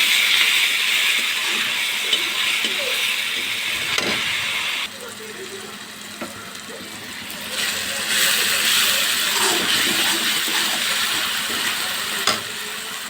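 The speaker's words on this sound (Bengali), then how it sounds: "এবার দিয়ে দেবো আদা রসুন পেঁয়াজ বাটা।" Ginger, garlic and onion paste frying in hot oil with whole spices and dried chili, a steady loud sizzle and hiss with occasional stirring clicks and scrapes of a spoon in the pan.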